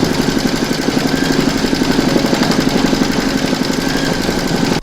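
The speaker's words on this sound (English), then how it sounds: "Pop your hoop back into your machine and stitch round number 5 to attach it." A home embroidery machine stitching an in-the-hoop stacked Christmas tree, a steady fast mechanical whir with an even rapid needle rhythm, loud and close, running continuously until it stops right at the end.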